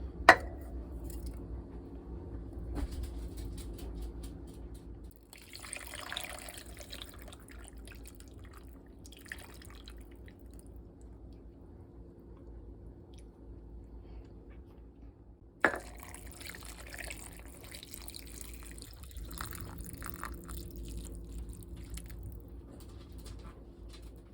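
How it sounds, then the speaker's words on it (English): Water trickles and drips steadily into a pot of broth for a long stretch, with a couple of brief clunks and faint splashing, no talking, while making homemade dog treats. "Then I'm going to add some water."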